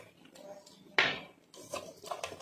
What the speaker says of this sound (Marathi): आणि 1 ते 2 मिनिटं असं फेटायचं आहे